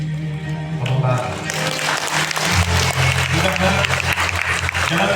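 A training-session audience bursts into loud, sustained applause after a speaker addresses them. The clapping rises over a voice and continues densely to the end.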